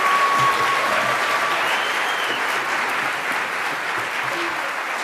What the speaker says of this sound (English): Can you give the 5th and 6th graders one more big, and obviously our 9th and 10th graders, one more big round of applause